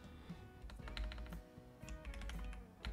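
Computer keyboard typing, quick uneven clicks of keys and taps close up, steady for a few seconds with no voices.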